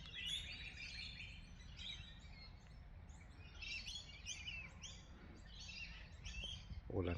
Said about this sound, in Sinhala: බෑග්ග්‍රවුන්ඩ් එකේ ඇහෙන ඇති කුරුල්ලෝ සෑහෙන්න ඉන්නවා මේ හරිය. ඒ කියන්නේ මේ ගිරව් ලොරිකිඩ්ස්ලා